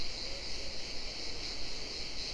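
Crickets chirp in a steady, continuous high-pitched trill outdoors on a sunny day, moderately loud and unbroken, with no talking.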